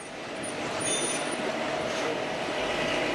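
A train on the mountain railway climbing toward Shimla rumbles steadily at a moderate level, with faint high metallic wheel squeals near the start and no speech.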